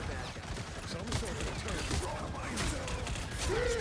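Turret firing in a Marvel Rivals match, a steady rattling stream of shots running under a player's talking, moderately loud and continuous throughout.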